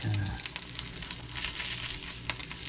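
Eggs sizzle softly in a frying pan as they cook toward over medium. The faint crackle is broken by a few light clicks of a utensil.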